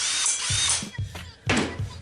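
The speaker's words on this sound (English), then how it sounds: "I just finished drilling the holes out for the cup holders" A power drill boring holes into wood for cup holders on rear VIP tables for a Lexus GS300, heard as short whirring bursts with pauses between them.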